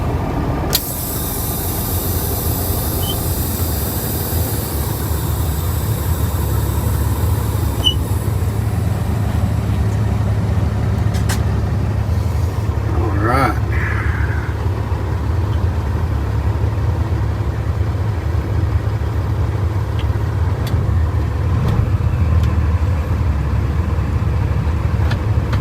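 A tractor-trailer truck on the road with a steady, loud engine and road drone throughout, a brief air-brake-like hiss midway and no talking.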